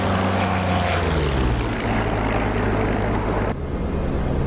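The engine of an F6F Hellcat propeller fighter drones loud and steady in a DCS World flight simulator, a dense continuous roar whose pitch drifts slightly before a sudden drop in intensity near the end.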